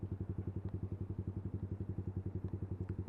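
Yamaha YBR motorcycle fitted with a Leo Vince exhaust with the baffle removed, idling with a loud, steady, rapid low-pitched thump and slight clatter, close by and alone.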